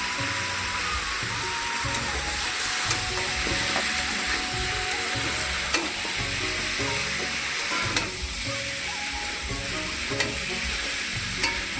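Cumin spice frying in a pan with turmeric, a continuous close hiss and sizzle with faint stirring scrapes and a few soft taps, no voices.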